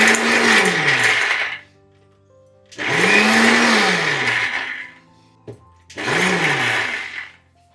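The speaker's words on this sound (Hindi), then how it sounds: "अभी मिक्सी मशीन में चला देंगे।" An Indian mixer grinder grinds cashews into powder in three loud whirring bursts of about two seconds each, its motor dipping in pitch as each run winds down, with short silent pauses between.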